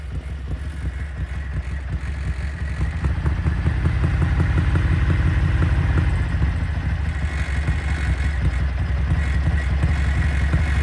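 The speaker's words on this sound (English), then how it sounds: "A little bit of throttle, it just starts rising and rising and rising" A Ducati bevel-drive motorcycle engine idles with carburettors in sync, then its revs climb and hang after a little throttle, a steady loud close mechanical thrum with no voices.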